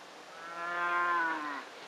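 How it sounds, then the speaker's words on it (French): A single cow lets out one long, drawn-out moo that swells and then fades, heard alone against quiet ranch-yard background. "Sam, emmène la vache au corral."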